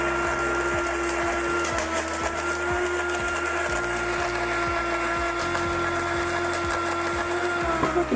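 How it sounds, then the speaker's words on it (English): A kitchen blender grinds sand, a loud steady whir with a rattling, gritty texture from the grains, running continuously for several seconds with no one speaking. "So I've now run this through the blender 5 times or so."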